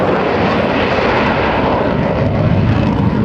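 A U.S. Navy F/A-18C Hornet jet roars continuously overhead at an airshow at NAS Oceana, a loud, steady broadband engine rush with no pauses and no voices.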